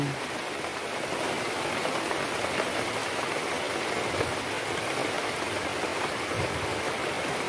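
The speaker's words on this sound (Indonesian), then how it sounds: "Hujan, hujan, hujan," Rain pours down in a forest with coconut palms, a constant, even wash of drops close around, with no one talking.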